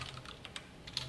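Typing on a computer keyboard during a C programming lesson: a quick run of close, crisp keystrokes over a steady low background hum, with no voices.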